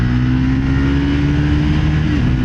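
A Triumph Scrambler 400 X motorcycle pulls hard from a standstill, its engine note loud, close and steady as it rises through the gears, with no talking.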